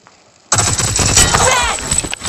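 Rapid automatic gunfire in a shooting video game, a dense burst of sharp cracks starting suddenly after a short quiet moment and continuing loud and close to the end.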